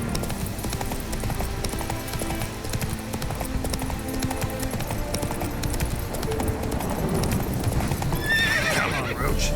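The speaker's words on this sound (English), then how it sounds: "Run, Roach. Didn't mean to hit your horse." A horse gallops in The Witcher 3, its hooves pounding in a fast, steady rhythm with a whinny heard, and game sound and other noise under it.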